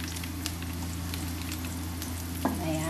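Onions sauté in a pan for sautéed bitter gourd, giving a steady close sizzle and frying crackle with a brief scrape of stirring near the end.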